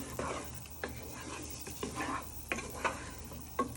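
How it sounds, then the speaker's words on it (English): Ingredients melt in a frying pan while a wooden spoon stirs them for a roux-style carbonara sauce. A steady low sizzle carries irregular scraping strokes against the pan, close and fairly quiet, with no speech. "You want to stir it all down with your wooden spoon"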